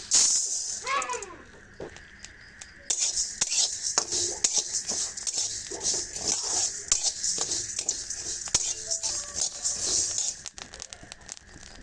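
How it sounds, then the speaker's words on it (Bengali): Rice dry-roasting in a wok crackles and hisses under repeated scraping and clinking of a metal spatula against the pan, close and busy for the whole stretch. "দেখুন চাল ভাজার শব্দটা কত মজা লাগছে আমার শুনতে।"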